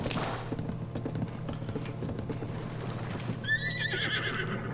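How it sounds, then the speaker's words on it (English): A horse whinnies in the video game Zelda Tears of the Kingdom, a bright high neigh rising near the end over soft steady clip-clop hoofbeats and background game music. "Prissy horse."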